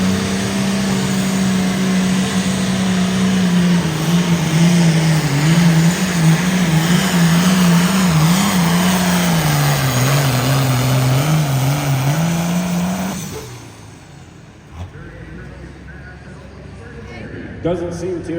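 The Pure Attitude pulling tractor, driven by Don Davey, roars with a loud, sustained engine howl that wavers in pitch during a truck and tractor pull at the Jones County Fair, then cuts off abruptly, leaving quieter background noise and a few thumps.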